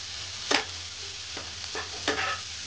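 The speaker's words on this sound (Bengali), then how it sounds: "ওই 30-40 সেকেন্ড মতো একটুখানি সতে করে দিই।" Onions sautéing in a pan, likely in butter with garlic, give a steady faint sizzle broken by three or four brief stirring scrapes, heard close and alone.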